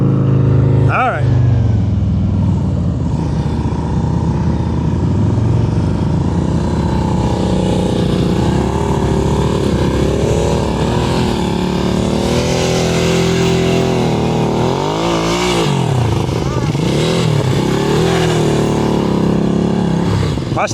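Motorcycle engine during advanced slow speed riding practice in Maryland, idling and revving gently in a steady drone for about twenty seconds, with an instructor talking over it throughout.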